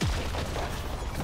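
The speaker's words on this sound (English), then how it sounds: "Red team's turret has been destroyed." A turret blows up in League of Legends with a deep, booming blast that drops in pitch at the start, then a rumbling, crackling tail for about a second.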